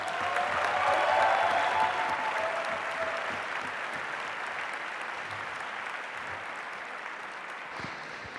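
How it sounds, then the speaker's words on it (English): An audience at the final of a world university debating championship applauds, the clapping loud at first and then slowly thinning and fading across the seconds, with no voices over it. "Can we have another round of applause, please?"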